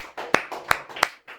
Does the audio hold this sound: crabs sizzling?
no